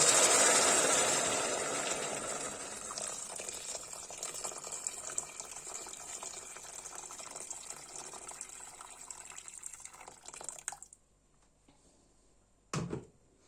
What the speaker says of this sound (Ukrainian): і заливаю водою